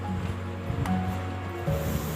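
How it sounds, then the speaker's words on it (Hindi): A pressure washer sprays water to flush the drain of an inverter AC unit, giving a steady hissing, splashing rush with a few brief tonal whines over it. "इसकी जो ड्रेन है उसको भी हम प्रेशर की मदद से सफाई करेंगे"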